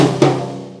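A tom drum lick from a rock drum lesson on a song lands as a close, loud hit early on, then rings out and fades steadily with no voices.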